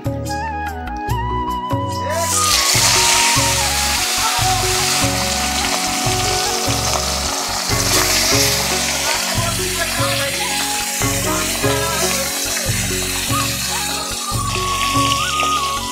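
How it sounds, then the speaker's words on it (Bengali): Fish pieces go one by one into hot mustard oil, which bursts into a loud sizzle after a brief quieter start and then holds a steady close crackle, with music playing underneath throughout. "তেলটা গরম হয়ে গেছে, আমি একটা একটা করে মাছ দিয়ে দিচ্ছি।"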